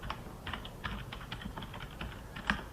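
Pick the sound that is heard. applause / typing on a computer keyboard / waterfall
typing on a computer keyboard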